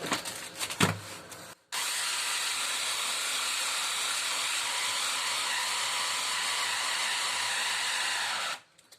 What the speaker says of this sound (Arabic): وغادي نطحن باش ينسجم ليا كلشي